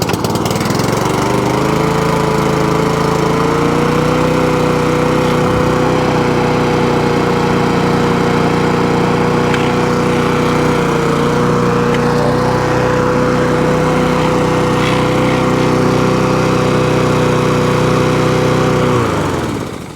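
A Husqvarna R152SVH ride-on mower with a Honda engine runs steadily and loudly from start to finish, a close, even engine drone with a constant pitch that only slightly drops near the end.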